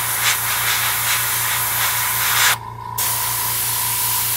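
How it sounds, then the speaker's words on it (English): A fine-detail Revolution airbrush spraying paint gives a steady, close airy hiss that runs continuously, breaks off briefly near the end, then resumes. "You're gonna need a pretty fine airbrush, like this is the Revolution"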